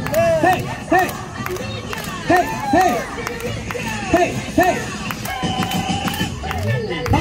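Outdoor busking crowd in Hongdae, Seoul, cheering and shouting along with rhythmic clapping during a final song, voices rising in repeated bursts over continuous music and babble.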